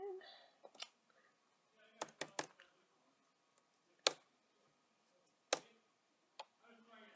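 Keys on a computer keyboard tap in sparse, irregular clusters of quiet, crisp clicks with pauses between, close and alone in a quiet room.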